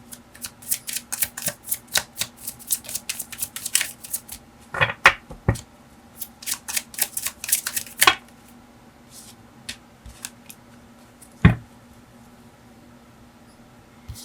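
Tarot cards are shuffled and drawn in a quiet room: a quick run of crisp riffling flicks, then scattered single card snaps and slides, close and fairly soft with no talk.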